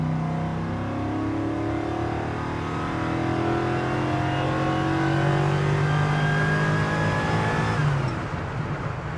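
A 1962 Chevrolet C10 restomod with an LS V8 accelerates hard on the road, a loud continuous engine note climbing steadily through the rev range with rising pitch, then a gear change near the end.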